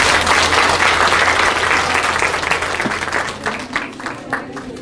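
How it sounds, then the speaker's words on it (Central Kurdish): A lecture audience breaks into strong applause, loud and dense at first, then gradually thinning into scattered claps near the end. "چەپڵەیەکی قایمی بۆ لێیان"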